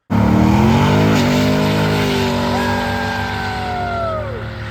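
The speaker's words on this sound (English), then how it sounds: "he did just a very respectable burnout with that vehicle" A car performs a burnout during a road rally in North America, its engine roaring loud and close under high-pitched, sustained tire squeal that rises and drifts in pitch.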